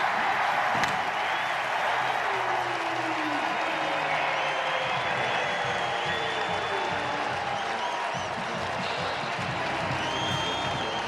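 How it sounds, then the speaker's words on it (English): A large homecoming crowd at a Nebraska vs Indiana college football game roars and applauds continuously, a dense, loud wash of cheering heard from a distance with no voices standing out. "this homecoming crowd is ready"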